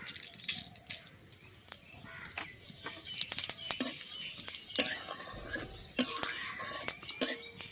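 Whole dry red chillies, bay leaf and cumin seeds frying in hot oil, giving a soft crackle under sporadic clinks and scrapes of a spoon against the pan, with no talk.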